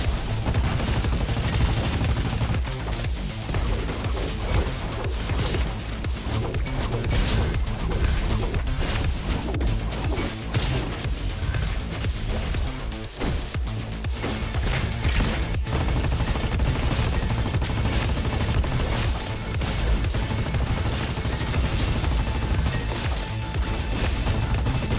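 AK rifle gunfire in a video game, sustained rapid automatic bursts that continue almost without pause, loud and dense, with combat clatter around them.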